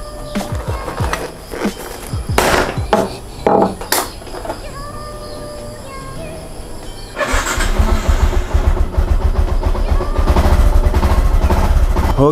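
A Yamaha Y15ZR motorcycle being worked on at home, with clattering handling noises and short bursts at first, then the small engine catching and settling into a loud, steady close-up idle for the last few seconds.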